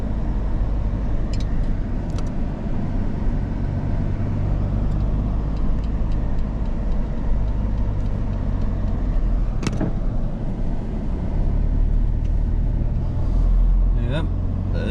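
A car drives along Al Sarawat Road through a residential camp area in Yanbu, a steady close engine and tire rumble from inside the vehicle, with a few brief clicks and knocks over the drone and a voice speaking at times.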